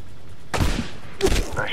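Two loud, booming sniper rifle shots in the Medal of Honor video game, spaced less than a second apart, each ringing out with a short echoing tail.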